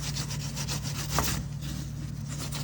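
Scrubbing and rubbing on the joint of a Volvo V70 brake calliper, a steady rasping, wire-brush-like scraping in repeated strokes, close up and fairly loud, with no talk.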